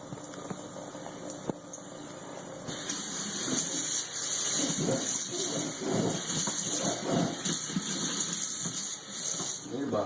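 A worn-out kitchen faucet runs with a steady hissing gush of water into the sink, close by, the flow swelling louder a few seconds in and continuing unbroken.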